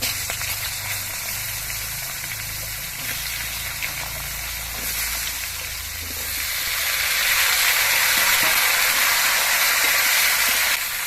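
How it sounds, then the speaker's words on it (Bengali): Vegetables frying in a pan with green chillies for a big puti fish dish, giving a steady broad sizzle and hiss that swells louder and brighter in the second half, close and continuous with no voices. "এবার সবজিগুলো কিছুক্ষণ ভেজে নিতে হবে"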